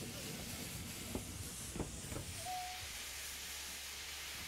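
A steam locomotive on the Chemin de Fer de la Vallée de l'Ouche, detached from its train, lets off a steady, continuous hiss of steam with a low rumble underneath and a few soft knocks.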